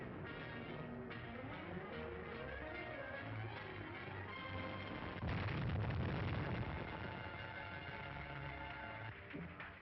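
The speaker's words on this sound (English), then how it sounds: "Gorman drove right into that blast." A blast in a tunnel, made as a sound effect for a 1940 radio drama, sets off a deep, rumbling boom midway through a dense, crackly background and then fades away.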